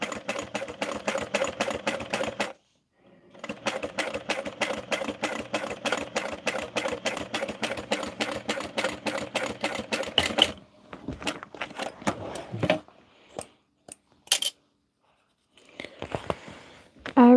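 A home sewing machine stitches a garment in long steady runs of rapid, evenly spaced needle strokes, pausing briefly between passes, followed by a few short bursts and handling clicks near the end.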